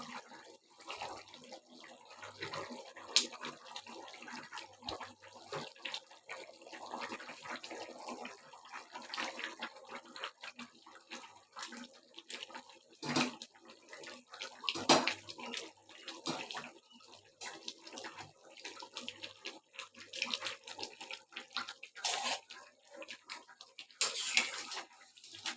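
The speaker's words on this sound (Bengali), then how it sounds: "আমি মাছগুলো দিয়ে দিচ্ছি।" Rohu fish pieces go into a gravy already at the boil, cooked with potato, cauliflower and green chillies, giving a faint, steady bubbling and sizzling with scattered soft clatters and drips.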